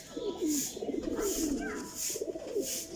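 Several flying pigeons coo nearby in rhythmic, repeated throaty phrases, a short steady burst of overlapping calls with no talk over them.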